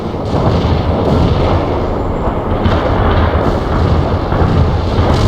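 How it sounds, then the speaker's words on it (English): An artillery barrage in the World in Conflict war game: a dense, continuous roll of loud, overlapping explosions and deep rumbling booms that lasts the whole stretch, with no talk over it. "Fire mission received. Artillery barrage inbound."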